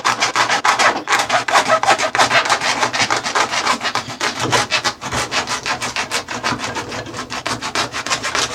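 Shoe foam being sawn through, a steady run of fast rasping back-and-forth strokes that stays loud and close throughout, with no talking.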